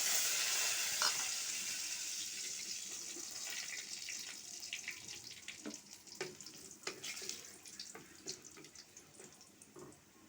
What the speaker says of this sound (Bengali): এখন রসুন দিয়ে দেব। এখন দিয়ে দেব তেজপাতা আর এলাচ।